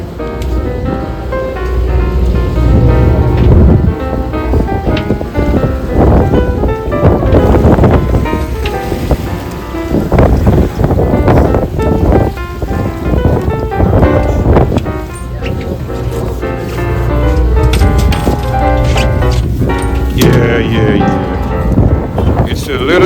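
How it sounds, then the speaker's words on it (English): Southwest wind buffeting a fishing boat at sea among choppy waves, heavy gusty rumble and splashing water throughout, with people talking over it. "It's a little choppy out here now. But hey, you see this is southwest wind. Look at these waves."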